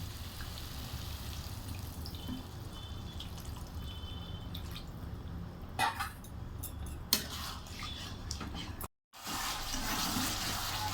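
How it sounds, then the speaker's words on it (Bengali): Water poured into a pan of braised chicken, a steady rush lasting several seconds with a few clinks, followed by a short gap and more steady noise. "এবার এর মধ্যে সিদ্ধ হওয়ার জন্য সামান্য পরিমাণ জল দিয়ে দেবো"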